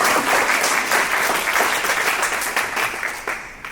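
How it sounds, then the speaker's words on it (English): Symposium audience breaks into loud applause, dense clapping from many hands that stays strong and slowly tapers over a few seconds, with no talk on top. "Y'all can clap."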